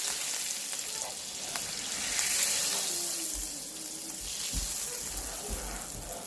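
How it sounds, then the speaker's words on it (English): Butter browning in a hot pan, a steady close sizzle and crackle with faint stirring scrapes, continuous and moderately quiet throughout. "We can brown some butter."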